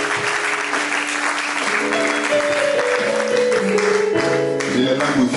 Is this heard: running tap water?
no